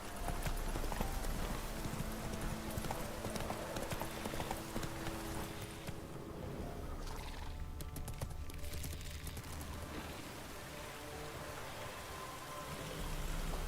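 A horse's hooves clip-clop at a steady walking pace in The Witcher 3, set over a rain-like ambient wash with a brief dip in the middle.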